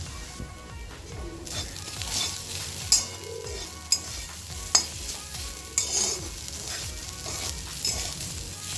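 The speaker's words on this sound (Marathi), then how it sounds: "आता आपण याच्यात खोबरं टाकू आणि गॅस मिडियम आकार मध्यम आचेवर ठेवून चांगले भाजायचे आहे" Grated fresh coconut roasts in hot oil and ghee over a medium flame, sizzling steadily as a spatula stirs it. Several distinct scraping clacks against the pan come through at irregular intervals.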